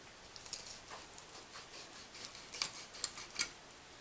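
Knife or scissors snipping close by under a trout fin while a fish is cleaned for canning, a series of short, faint crisp cuts that grow sharper and more frequent toward the end.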